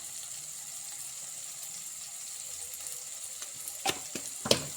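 Kantola vegetable with chilli powder, turmeric and garam masala sautéing in a pan, a faint steady hiss of frying, then a few louder scrapes and knocks of stirring near the end.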